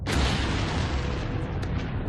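The atomic explosion at Hiroshima: a deep, broad blast roars and rumbles for a couple of seconds, loud and dense with low-end boom fading slowly.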